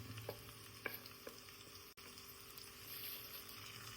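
Kingfish pieces coated in chili paste frying in a pan, a steady close sizzle with a few soft clinks and stirring bumps, no voices.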